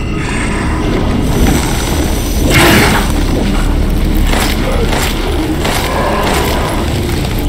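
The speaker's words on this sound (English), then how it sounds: "Pipe bomb?" A pipe bomb goes off in Resident Evil Village's Shadows of Rose DLC, a loud booming blast around the middle of a continuous, dense game soundscape, with rumbling low noise throughout and no talk.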